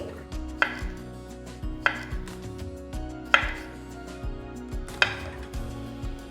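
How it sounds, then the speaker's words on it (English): A knife chops fresh cucumbers into half-circle pieces on a cutting board for Nepali cucumber achar, landing four sharp, evenly spaced strikes over a low steady background hum. "So next we're going to cut the cucumbers into pieces"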